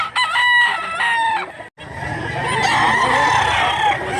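A rooster crows loudly nearby, a long ringing call, followed after a brief pause by another rooster crowing a bit farther off.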